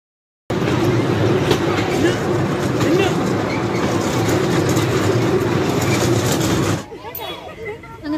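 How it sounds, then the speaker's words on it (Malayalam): An amusement park ride train runs in a steady, loud rumble for about six seconds, then the noise drops away abruptly. "ഇപ്പോൾ ട്രെയിനൊക്കെ ഓടിത്തുടങ്ങി."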